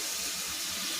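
Water from a tap runs steadily and fairly loud in a kitchen, poured in to mix ground spices for a kofta curry; a continuous hissing stream with no talk.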